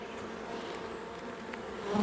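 Agitated honeybees swarm around an opened hive frame, a dense steady buzzing close by with individual bees droning past, rising slightly at the end.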